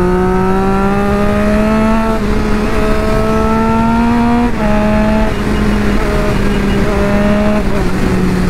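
A Triumph Street Triple 675 motorcycle accelerates hard through its gears on an open road, the engine note rising steadily in repeated sweeps with short drops at each shift, loud and close throughout.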